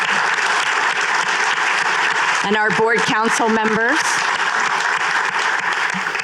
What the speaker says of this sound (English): say a big applause for the board of directors